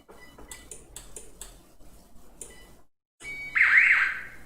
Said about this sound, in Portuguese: já disparou e acusou na central de alarme